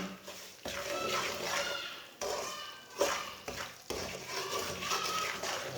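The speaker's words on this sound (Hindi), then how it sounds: "अब सूजी को अच्छी तरह ब्राउन कर लेंगे।" Semolina being stirred and roasted in oil or ghee in a pan for egg and semolina halwa, with continuous scraping, stirring and light sizzling, bursts of spoon movement close by and no talk.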